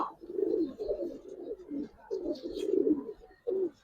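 Giribaz pigeons coo nearby in a series of low, throaty, rolling calls that pause briefly between phrases, with a faint higher chirp in the background.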